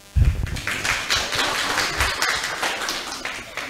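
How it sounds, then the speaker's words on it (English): Audience applause at an environmental activism talk with Licypriya Kangujam in Timor-Leste, a steady mass of clapping that starts with a loud burst and continues evenly for several seconds, with no speech over it. "And there are more claps"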